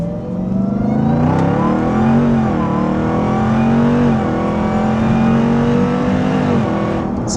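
Supercharged Jeep Trackhawk engine revving hard under acceleration, loud and close from inside the cabin, its pitch rising and holding in a strained howl with a brief dip at a shift before climbing again.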